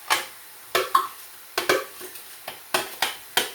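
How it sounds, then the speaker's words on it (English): Finely chopped onions going into a pan for a lamb masala, a series of separate scraping and clattering strokes of a utensil against the pan, about eight distinct hits, close and fairly clear with no talking. "to put in those onions that we've chopped really finely"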